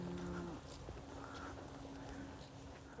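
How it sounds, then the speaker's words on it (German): Cows on an outdoor pasture, one giving a single low moo at the start, followed by a soft, steady outdoor background. "Es sind drei Kühe dabei, die sind jetzt 15 Jahre alt."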